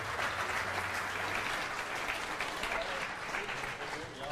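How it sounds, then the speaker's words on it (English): Audience applause at the launch presentation of the new Sauber C32 Formula 1 car, a steady wash of clapping heard from a distance and fairly faint, with a presenter's voice mixed in beneath it. "applause for the new Sauber"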